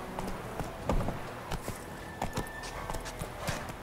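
Horse Roach's hooves clip-clop at a steady walking rhythm in The Witcher 3, close and fairly clear over a soft ambient bed, with a few louder hoof strikes standing out.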